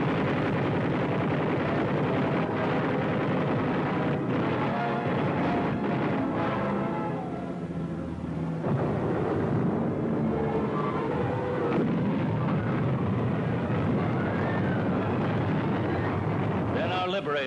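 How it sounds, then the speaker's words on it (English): Medium bombers strike a Japanese airdrome and its defenses at Munda in the jungle during the Pacific war, a dense, continuous roar of blasts and rumbling engine noise that stays loud throughout, with a voice talking over it. "jungle-hopping medium bombers went after the Jap airdrome and its defenses."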